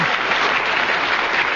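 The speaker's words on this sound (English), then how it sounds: "I don't know whether the audience are applauding because they agree or just applauding your magnificent performance, Derek." A studio audience at a radio panel game show breaks into warm, steady applause, loud and close, with dense clapping sustained evenly throughout and no voices over it.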